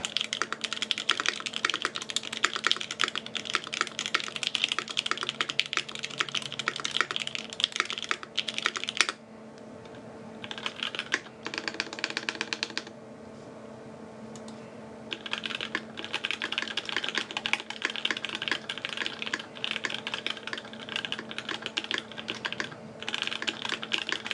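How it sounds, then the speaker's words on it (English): A mechanical keyboard with Gateron Black Ink switches, gasket-mounted brass plate or top-mount aluminum plate, typed on in rapid, steady keystrokes, close and clear, with a short pause midway. "This is Gateron black inks, gasket mounted brass plate versus top mount aluminum plate."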